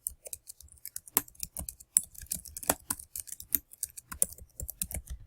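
Fast typing on a computer keyboard, a dense run of crisp close key clicks with uneven rhythm and a few heavier strokes, with no voice over it.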